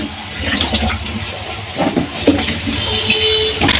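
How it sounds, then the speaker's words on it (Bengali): Water runs steadily while papaya pieces are rinsed in a kitchen, a close continuous splashing gush with a few clatters and knocks from handling, alone without speech. "পেঁপেগুলো এখন ধুয়ে নিতেছি।"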